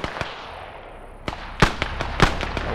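Sharp gunshot cracks in a World War II video game: a couple of sparse early pops, then several loud close shots clustered toward the end over a steady background hiss, with no talk.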